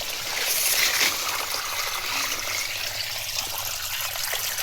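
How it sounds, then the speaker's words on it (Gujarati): Steady trickling and splashing of irrigation water flowing into a rice paddy field, continuous and fairly close, with no talking. "અહીં પાણી ચાલુ કરેલું છે"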